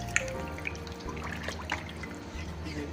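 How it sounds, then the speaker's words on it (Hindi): Water pours into a pot of desi chicken curry, a soft steady trickle with a few drips, close by and alone. "तो अब इसमें हम पानी डालेंगे"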